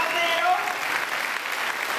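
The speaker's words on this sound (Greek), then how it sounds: "Χειροκρότημα λοιπόν στη χοροδία, χειροκρότημα στην ορχήστρα." A concert audience applauds the choir and orchestra at a Greek tribute event to a composer, a continuous, even wash of clapping with a voice faintly under it at the start.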